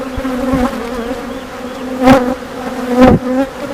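Agitated honeybees buzz close by during a hive inspection on a farm, giving a continuous droning hum with a few sharper swells as individual bees pass near.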